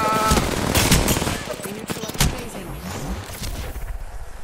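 The Rampage light machine gun firing in Apex Legends gives loud, heavy rounds in quick bursts, then a rattling string of shots that thins out, with a person talking over the gunfire.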